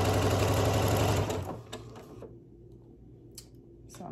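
A computerized sewing machine stitches a butterfly quilt block, its fast, loud, rhythmic whir running close for over a second before stopping, followed by faint handling clicks.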